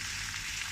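Celery frying in oil in a pan for a Sicilian caponata, a brief soft steady sizzle.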